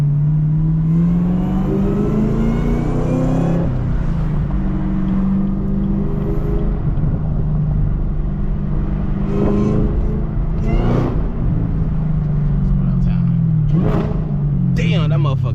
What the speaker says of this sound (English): this car sound crazy